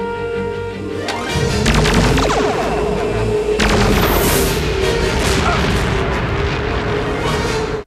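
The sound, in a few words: stock gunfire sound effect, three shots, Batman animated series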